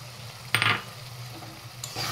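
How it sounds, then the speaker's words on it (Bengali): Tomatoes tumble into a pan of sizzling spice masala for Bengali mutton kosha: a sharp splash of frying at the drop, stirring scrapes, then a steady low sizzle with one more short burst near the end, close and moderately loud, no voices. "এবার আমি এর ভেতরে দিয়ে দিচ্ছি টমেটো"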